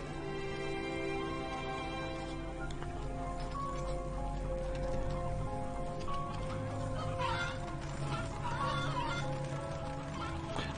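Chickens cluck repeatedly in the video game MediEvil, amid a steady game soundtrack with sustained musical tones and background clatter, moderately loud throughout with no clear speech.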